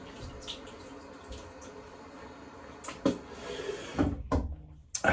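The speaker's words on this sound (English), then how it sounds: "I'm just gonna go quick rinse again." Tap water running into a bathroom sink while rinsing the face after a safety-razor shave, a low steady trickle broken by a few louder splashes and clunks near the end.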